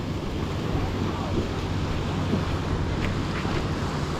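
Steady wash of surf rolling in continuously, with a broad windy rumble and no distinct breaks between waves.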